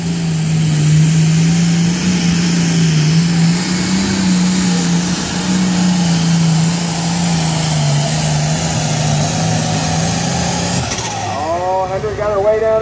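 Pulling tractor engine running loud and sustained at a tractor pull, a steady heavy drone with a slowly wavering pitch that surges and rises near the end.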